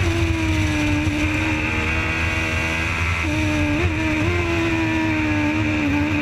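Formula Gulf 1000 race cars run flat out through a very fast corner complex, a loud, steady engine drone holding its pitch with a brief lift and dip midway before pulling on again, with no talk.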